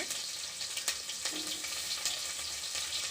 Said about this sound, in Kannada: ಇದು ಫುಲ್ಲು ಫ್ರೈ ಆಗಬೇಕಂತೇನಿಲ್ಲ ಸ್ವಲ್ಪ ಅಂದರೆ ಸಾಕು ಈರುಳ್ಳಿ